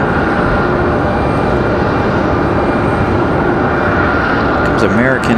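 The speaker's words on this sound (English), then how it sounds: "CRJ coming in from LaGuardia. Endeavor 5108." An Endeavor CRJ regional jet arriving from LaGuardia produces a loud, steady engine roar that fills the whole moment, with a person talking over it.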